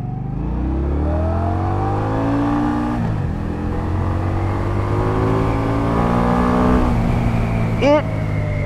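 Indian Scout liquid-cooled motorcycle engine revving hard, its pitch climbing steadily in loud sustained pulls with a short drop between them and a brief sharp squeal near the end, heard close.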